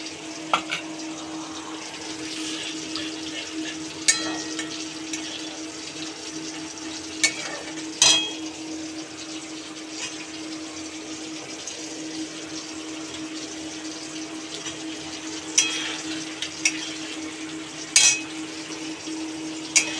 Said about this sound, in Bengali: এবার 1 কাপ দুধে 1 চামচ ময়দা গুলে এর মধ্যে দিয়ে দেবো।